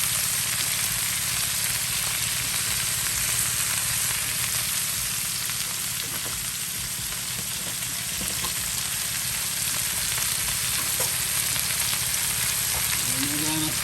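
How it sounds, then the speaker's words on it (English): Pimento seeds fry with garlic in a pot, giving a steady, loud sizzle throughout while a spoon stirs them, with a faint scrape near the end. "And we're gonna stir it up."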